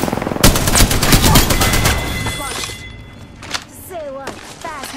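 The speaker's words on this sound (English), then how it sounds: "Shot fired." Gunfire in the video game Apex Legends: loud rapid automatic bursts crack at the start, then scattered single shots and thuds follow, with in-game voice callouts and chirpy effects sounding over the quieter tail.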